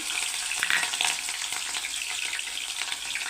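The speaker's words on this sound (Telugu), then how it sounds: "స్టవ్ మీద కడాయి పెట్టుకొని ఆయిల్ వేసుకున్నానండి. ఇప్పుడు ఆయిల్లోకి ముందుగా పచ్చిమిర్చి," Green chillies sizzle and crackle in hot oil in a kadai on a stove, a loud continuous hiss heard close up with no voices.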